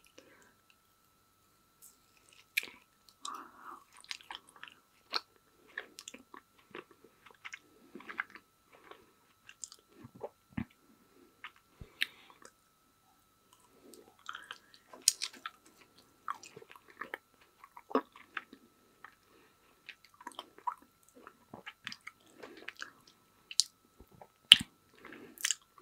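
Soft, sticky chewing and biting of passion fruit mochi ice cream, close and quiet, with scattered wet squishes and small crunchy clicks, interspersed with faint whispering.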